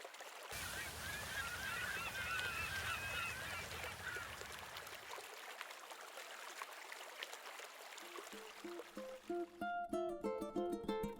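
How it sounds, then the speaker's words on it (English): Canada geese honk repeatedly against a steady wash of flowing water at a beach, the calls loud and nearby, followed near the end by a burst of rapid, overlapping honks. "This is a pair of Canada geese."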